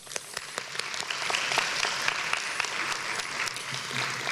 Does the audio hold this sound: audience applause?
yes